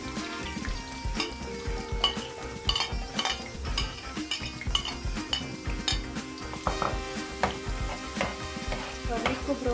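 Onion and garlic fry in a pan for masoor dal, a constant close sizzle under busy metallic scraping and clinking of a spoon stirring against the pan, dense and continuous with no speech.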